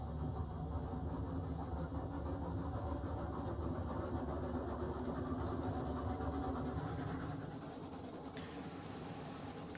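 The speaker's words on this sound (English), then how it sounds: "This is a pretty good sized train for this little engine, especially pulling a solo." A small steam locomotive in RailRoads Online hauls a fairly heavy train, giving a steady, continuous chuffing rumble with faint rail clatter. The sound stays even throughout and eases off slightly near the end.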